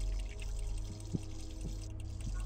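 Water running from a tap in a Roblox game kitchen, a steady pouring stream with a low hum underneath and a few soft splashy pulses, moderately loud and continuous.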